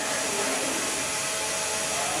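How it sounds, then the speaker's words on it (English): A loud, steady roar from a pre-dryer machine being loaded with powdery poultry litter, a constant broadband whoosh like a large blower running without pause. "here's Zoe loading up the pre-dryer,"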